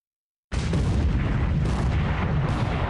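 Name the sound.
battleship blowing up a tanker in a naval video game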